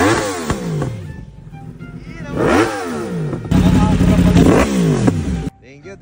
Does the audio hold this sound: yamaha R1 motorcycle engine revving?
yes